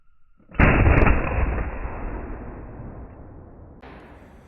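An Egyptian Hakim semi-automatic 8x57mm battle rifle fires a reloaded round with its gas system opened to the second setting, a single loud blast that decays slowly, followed a few seconds later by a sharper, fainter noise.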